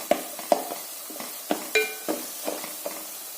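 Onions fry in oil in a pan for beef biryani, just starting to redden, with a soft sizzle under a rhythm of scraping stirs and light ladle clinks, close up and without speech.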